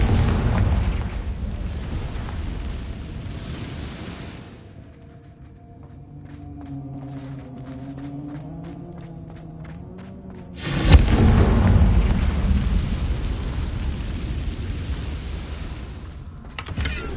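A Confringo blasting spell in Hogwarts Legacy on PS5: after a quieter passage with a soft tonal hum and faint clicks, a sudden loud, close explosive burst erupts near the middle and trails into a long rumbling roar.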